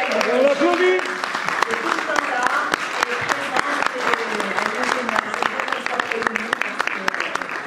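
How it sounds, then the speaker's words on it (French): A crowd claps at the prize-giving of a slam poetry contest in Marseille, brisk continuous applause that starts over a speaking voice and then carries on loud and dense on its own. "On l'applaudit."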